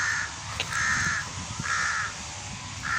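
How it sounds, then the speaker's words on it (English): Several big crows caw in a park, loud and fairly near, in repeated harsh calls spaced across the clip over a low background rumble. "Oh, look at these monster crows here."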